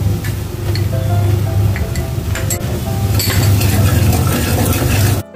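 Pav bhaji masala and chilli powder stirred and sautéed in oil and butter in a pan, a steady sizzle with scraping and clinking of a spoon against metal, close and fairly loud, ending abruptly.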